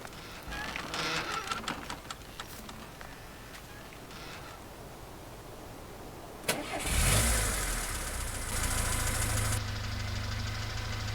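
Car engine starting in Farming Simulator 19, a sudden loud crank and catch partway through, then settling into a steady idle hum, after quieter background clatter with no talking.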